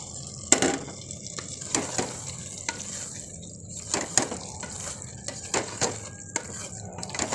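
Chicken being added into a cooking pot over a low flame, with repeated scraping and stirring clinks of a spoon against the metal pot over a soft background sizzle, close by and without talk.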